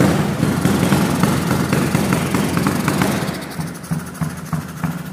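A Maiki 021 351cc motorcycle runs at idle just after an electric start, a steady close engine rumble that holds for several seconds, then eases into a quieter, slightly uneven idle.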